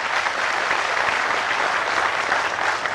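Dense, even applause fills a hall at a DSK event, a large audience clapping steadily and loudly without pause.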